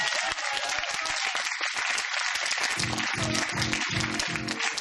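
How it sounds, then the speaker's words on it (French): An audience in a show hall applauds in a loud, continuous wash of clapping, with rhythmic low thumps of music pulsing beneath it in the second half. "Et dans la salle, vous pouvez applaudir"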